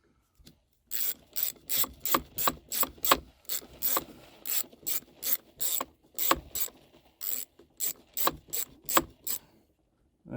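A ratchet with an 8mm socket drives screws into the plate of a Homelite Super 240 chainsaw, giving a long series of rapid clicking strokes in even bursts, close and clear.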